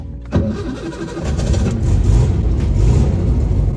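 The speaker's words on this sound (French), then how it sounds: "C'est tellement drôle de démarrer cette caisse." An old Volkswagen Beetle 1302 engine cranks briefly, catches, and settles into a loud rumbling idle that builds slightly, recorded close by.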